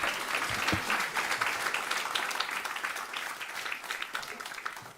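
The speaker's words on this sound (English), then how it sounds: "Give him a round of applause" Applause from a conference audience at a food security event, a moderate wash of many hands clapping steadily before gradually thinning toward the end.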